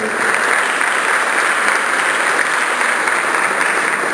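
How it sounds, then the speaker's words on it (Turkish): Audience at a film festival award ceremony applauding steadily, dense clapping from a large crowd filling the hall without pause. "alkışlarınızla sahneye davet ediyorum"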